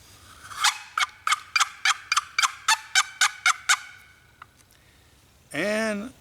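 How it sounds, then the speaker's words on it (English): Wild turkeys answer a call with a rapid run of about a dozen sharp, evenly spaced gobbling yelps, loud and close, followed by a pause and then a longer, rising call. "And a hen over here responded."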